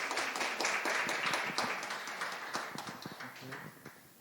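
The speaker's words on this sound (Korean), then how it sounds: "우리 한 번 더 인사 드릴 때 박수해 주시기 바랍니다" Many hands in a church congregation clap during a Sunday service, a fairly loud patter of applause that slowly tapers as scattered individual claps stand out toward the end.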